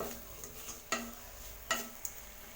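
Capsicum and peanuts with turmeric stir-fry in a pan, a soft, steady sizzle broken by two distinct scrapes or clacks of a utensil against the pan and a lighter tick near the end.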